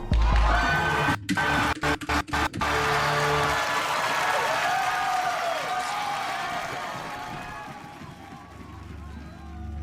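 A studio audience erupts in loud applause, cheering and booing, starting with a sharp burst and then holding as a dense, steady roar that slowly fades over about ten seconds.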